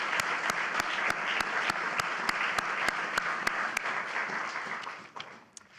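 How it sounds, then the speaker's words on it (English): Audience applause for White House and Senate staff at a presidential speech, a dense steady wash of many clapping hands with sharp camera clicks cutting through, tapering off in the last second. "Let's have a round of applause for the great staff"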